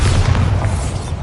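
A Bombarda spell explodes in the Hogwarts Legacy video game: one loud, close, deep boom with a rumbling tail that fills the whole short moment.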